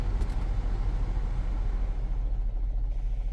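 A 2011 GMC Terrain on the road fills the cabin with a continuous low rumble of engine and tire noise, steady and fairly loud, with no talking.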